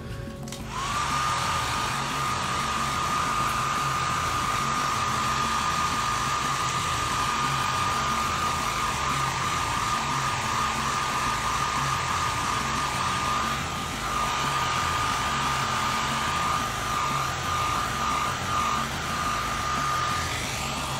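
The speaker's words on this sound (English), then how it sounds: "Right, hair dryer time," Hair dryer blowing on a miniature model in a hot room, a loud continuous whooshing roar with a steady whine that switches on at the start and runs without a break.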